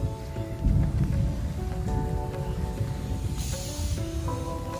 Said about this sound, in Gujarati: જો કોઈ જોરદાર વરસાદ પડે જો વીજળી પણ થાય છે